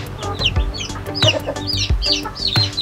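Rhode Island chickens cluck repeatedly in a coop, several short clucks and calls overlapping at close range over a steady low background rumble.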